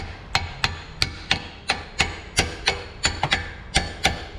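A part is tapped down onto the splines of a Chrysler 8 1/4 differential during an overhaul, about a dozen sharp metallic knocks at a steady, slightly uneven pace, close and clear, with no talk.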